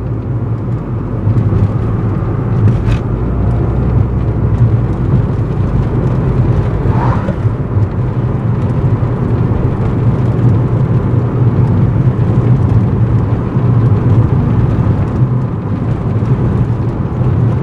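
A car cruises along winding country roads in the Berkshire Hills of Massachusetts and Connecticut on a summer day; a loud, steady interior road-and-engine rumble fills the whole stretch without pause.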